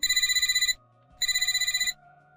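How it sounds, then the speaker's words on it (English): A work phone rings in two electronic trilling bursts separated by a pause, clear and fairly close, with no one speaking. "Then my work phone rang."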